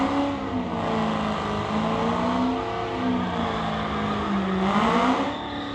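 Street-legal drag race as a BMW chases a Dodge down the strip, engines roaring loud and continuous with rising and falling rev sweeps, a car swelling nearer near the end.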